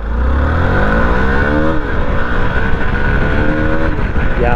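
A 2023 Hero Xpulse 200 4V Pro adventure motorcycle, a 200 cc four-valve single, fires up and pulls away. The engine note climbs through rising revs and gear changes, loud and close, with no talk over it.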